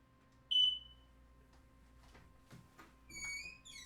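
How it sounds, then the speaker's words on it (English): A household smoke alarm gives one sharp, high chirp early on, with fainter electronic tones returning near the end over quiet room background. "my fire alarm's going off"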